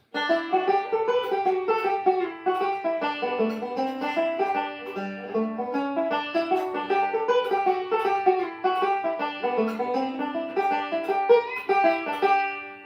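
A plucked string instrument plays a bouncy, lilting pattern with a shuffled long-short feel between beats, steady and clear, no talking.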